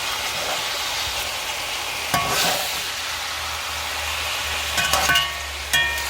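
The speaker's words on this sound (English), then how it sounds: "you let it sit a little while to brown a little bit more." Oxtail pieces browning in a hot pan give off a loud, steady sizzle and crackle, with a few clatters of stirring or turning the meat over the continuous frying hiss.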